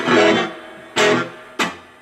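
Three strummed chords on a Fender Telecaster through a Fender Blues Jr amp with reverb set low ring out and decay quickly, with only a short, subtle tail of reverb after each.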